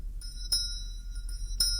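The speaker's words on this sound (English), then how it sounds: "In the distance, he could hear the sound of the school bell." A school bell ringing in the distance, faint, thin metallic rings repeating in a few separate strikes over a quiet background.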